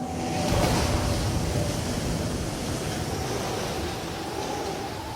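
Strong cyclone winds and surf pound a Western Pacific shoreline in a constant loud roar of wind and crashing water, with no voices.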